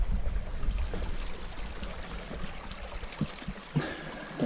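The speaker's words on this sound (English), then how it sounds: "Here we are again, crossing McKean's Creek on our way back." Flowing water of McKean's Creek during a crossing: a continuous rushing, splashing wash with a few heavier surges toward the end, close and fairly loud.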